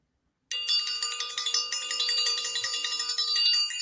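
A bell rings out loud and bright after half a second of silence, its metallic tone struck repeatedly in quick succession with dense ringing overtones and no talk.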